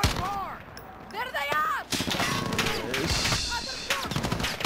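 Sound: gunfire from behind in a video game

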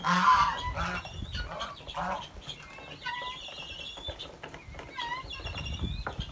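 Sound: guinea fowl calling

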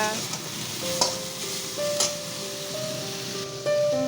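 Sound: leafy greens (shak) frying in a pan

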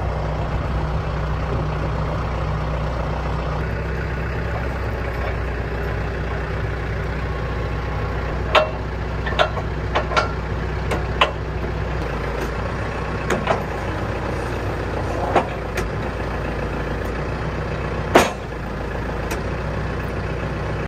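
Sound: tractor running with flail mower hooked up

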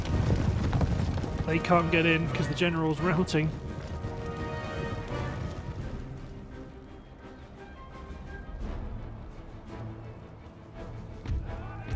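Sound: cavalry horses galloping, Empire Total War video game

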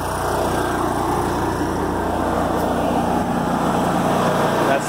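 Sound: welder engine settling to idle after pump shut off

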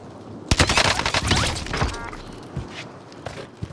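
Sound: gunshots in video game Call of Duty: Modern Warfare

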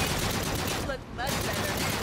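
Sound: gunfire shooting Krogs in a video game

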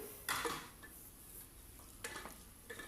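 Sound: stirring mutton with tomatoes in a pot

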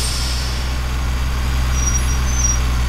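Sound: truck brake pads squealing, GTA San Andreas sound pack (video game)

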